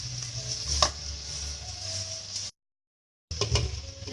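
Vegetables sauteing in a pan for white sauce pasta, soft steady sizzling with scraping and stirring clinks, a brief dead-silent gap, then more stirring and sizzle.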